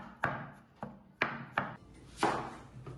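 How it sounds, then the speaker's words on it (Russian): Knife chopping potatoes into small cubes on a board, five sharp, distinct strikes at uneven intervals, close and clear with no talking. "Нарезаем картошку мелкими кубиками."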